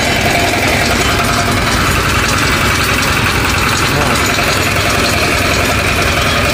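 A Firman FTL 720D cultivator engine running, a loud, close, continuous, rough mechanical drone with a constant vibrating rattle and no pauses.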